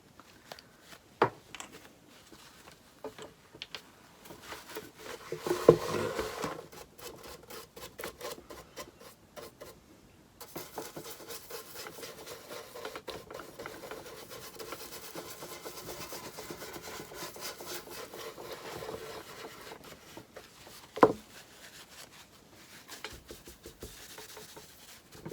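A brush or cloth drags in soft repeated strokes across a piece of furniture, wiping back brush marks in a black top coat, quiet and close with a couple of sharper knocks.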